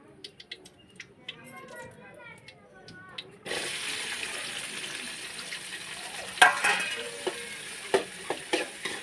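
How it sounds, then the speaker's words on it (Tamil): Ingredients hit hot oil in a pan for quick noodles, starting a continuous sizzle with occasional sharp pops and crackles after a quieter opening with a voice speaking. "எண்ணெய் கொதிக்குது."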